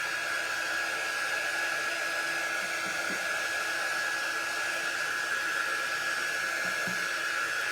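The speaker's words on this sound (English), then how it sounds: "the best thing about this quick dry tool is it's not going to melt the mat" A quick dry heat tool blows air over a fabric gingerbread decorative pillow resting on a craft mat, giving a constant close whoosh with a steady high whine and no talking.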